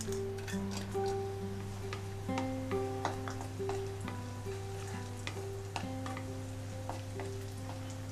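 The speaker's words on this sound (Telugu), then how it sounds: "ఇప్పుడు ఇందులో కిస్మిస్ కూడా వేయించుకోవాలండి." Raisins fry in hot fat in a pan for carrot halwa, giving a steady close sizzle with scattered small pops and the light scrape of stirring.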